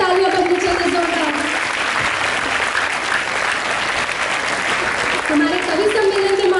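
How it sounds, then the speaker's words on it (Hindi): An audience at a Hindi Week poetry gathering bursts into loud, sustained applause that fills the room without a break, with a voice and a tonal sound rising over the clapping near the start and end. "एक बार और शुभ के लिए तालियां बजनी चाहिए जोरदार"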